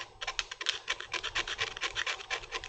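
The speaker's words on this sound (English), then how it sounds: "I can finish off by just sanding out" Quick rhythmic rasping strokes of sandpaper scrubbing a small plastic model aircraft part, close up and fairly quiet, in a steady back-and-forth pattern.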